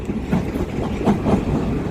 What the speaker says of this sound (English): this is the train that they've been waiting for to come off the Ronkonkoma line. It's an M9